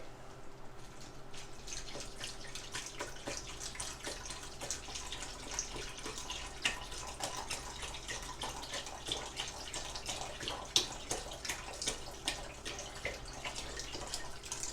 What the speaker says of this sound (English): I'll add some more broth.